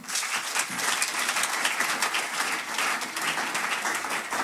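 An audience at a church-style evening gathering applauds in a dense, continuous wash of clapping that holds steady and loud throughout, without speech.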